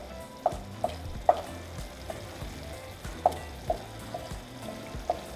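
Ground beef browning in a pan gives a low, steady sizzle broken by a handful of sharp scrapes and taps of a spoon stirring the meat, close and moderately loud with no voices.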